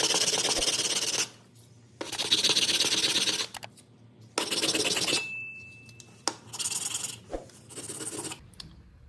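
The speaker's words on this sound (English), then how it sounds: "I take it on a piece of sandpaper and I sand it until I get it perfectly flat." Rasping strokes of a plastic window crank handle part rubbed flat on sandpaper for a 1995 Ford F150, five bursts of scraping separated by short pauses, close and fairly loud, with a faint whistle-like tone midway.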